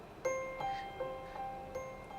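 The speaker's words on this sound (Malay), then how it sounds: "satu yang saya nak highlightkan untuk kereta ni adalah daripada segi dia punya bunyi buzzer" A Volvo XC40 T5 Recharge gives its seatbelt reminder chime: soft, bell-like dings repeating about every half second, five in a row. The chime is faint and clean inside the cabin, with no talk over it.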